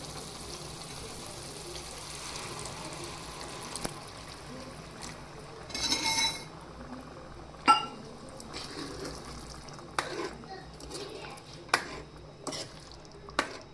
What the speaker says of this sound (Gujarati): પાણી એડ કરી અને હવે આપણે તેને બે થી ચાર મિનિટ માટે કૂક થવા દેશું